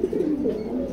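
A female pigeon at a loft coos in a low, soft, rolling call, close and steady for a moment.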